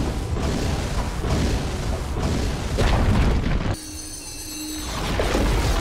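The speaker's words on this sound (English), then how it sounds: "Radiant's top tower has fallen." A tower crumbling in a Dota 2 pro match: a loud, deep boom with rumbling debris, cut off suddenly by quieter game ambience and a faint tonal chime before the noise swells again.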